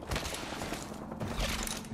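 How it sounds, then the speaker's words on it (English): Rapid bursts of video game gunfire, dense and continuous, with overlapping shots at a steady loud level. "We have a lot of gunshots."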